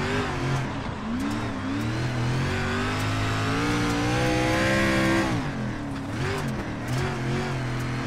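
A dirt race car in iRacing on the Husets dirt track, its engine revving and easing with pitch rising and falling through the corner, loud and steady under the driving.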